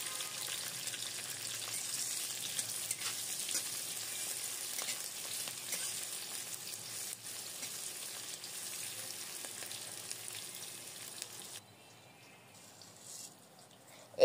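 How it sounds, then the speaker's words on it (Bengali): Chopped onion and chili fry in oil with cumin, bay leaf and cinnamon for Bengali basanti pulao, giving a steady, even sizzle up close throughout before it drops away near the end. "এর মধ্যে পেঁয়াজ কুচি ও কেটে রাখা মরিচ। এরপর সব ভালো মতো একসাথে ভেজে নেব।"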